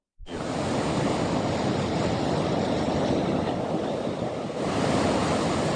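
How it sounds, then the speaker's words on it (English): Big ocean waves roll in and break against the shore in near-calm air, a loud continuous roar of surf with steady broadband wash, swelling slightly toward the end. "Hardly a breath of wind, but there's massive waves coming in."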